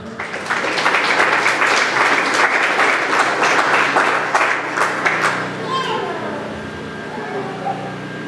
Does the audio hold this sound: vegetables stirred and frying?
no